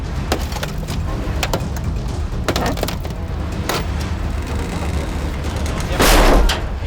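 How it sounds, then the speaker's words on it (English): Metal and plastic crack and pop in sharp, irregular bursts as hydraulic jaws of life force a car door open, ending in one louder bang. "we wait for the fireys to open the door with the jaws of life"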